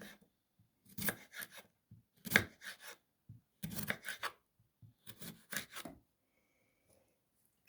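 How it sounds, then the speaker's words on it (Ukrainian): Young cucumbers sliced into chunks with a knife for canning, in several short bursts of rasping cuts separated by pauses, close and fairly quiet, no talking. "Огірочки нарізуємо такими частинками."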